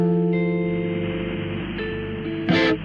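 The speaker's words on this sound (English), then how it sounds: "You can hear the hiss, the hum." Vinyl-style hiss and low mains hum from the Waves Retro Fi plugin: a steady noise bed with constant humming tones that continues throughout, then a brief louder crackly burst near the end.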